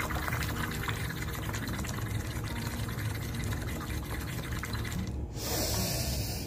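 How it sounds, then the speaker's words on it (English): Someone blows bubbles through a straw into a glass of water as a breathing exercise, giving a continuous bubbling, gurgling stream that runs for several seconds and stops briefly near the end before resuming. "So you have to blow out completely by making bubbles."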